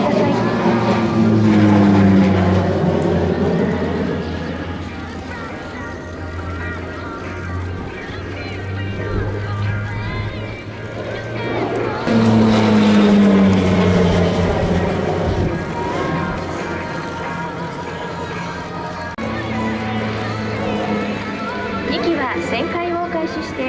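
A T-7 propeller trainer flies aerobatic turns at an airshow, its engine drone rising and falling in pitch as it banks, loud and steady under a commentator's continuous talk.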